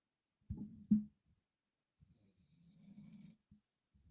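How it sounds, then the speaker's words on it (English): A pet dog snoring nearby in a quiet room, two short raspy snorts close together, then a longer, softer drawn-out snore after a pause, all faint and low. "Can you all hear my dog snoring right now, by the way?"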